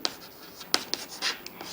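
Chalk or marker writing on a board during a maths lesson: brief scratchy strokes and taps at an uneven pace, close and quiet, with no talking.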